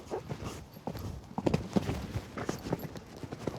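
Hooves of a show-jumping horse in training thud in an irregular rhythm on the ground, moderately near and fairly soft, with no talk.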